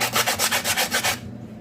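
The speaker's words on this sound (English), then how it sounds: "the more you actually sand this down, the smoother it will get" Rhythmic sanding of a candle container surface by hand, about six close, loud back-and-forth rasping strokes in a steady rhythm that stop abruptly near the end, with no talking.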